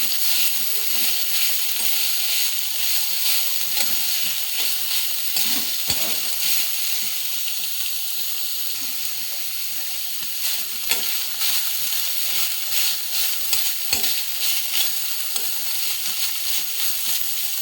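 Banana stem (thor) fries in a little oil while being stirred, giving a steady close sizzle with scraping stir strokes and a few sharp clinks, no voices.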